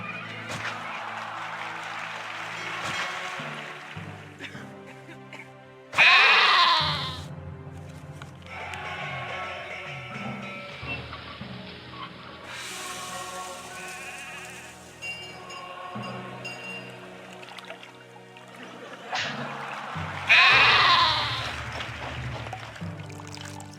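Sheep in the city-builder game Caesar III bleat in two loud, sudden bursts, separated by a stretch of layered background music and effects, with no talking.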